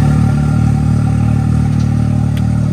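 Quad engine fitted with an Evil Power Sports exhaust runs steadily and close up, a dense low rumble with a constant idle-like drone throughout, no voices.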